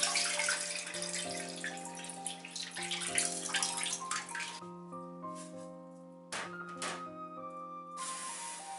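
Rice is washed under running water for a Japanese home cooking recipe: a steady hiss of the tap with splashing, close and continuous, over a soft background of steady musical tones.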